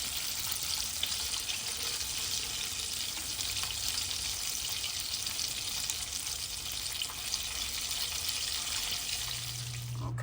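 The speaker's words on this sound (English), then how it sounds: "Alright, we just straining it now." Red chili sauce being poured through a small kitchen strainer, a steady fizzy hiss of liquid running and trickling throughout, fairly quiet and constant with no voices.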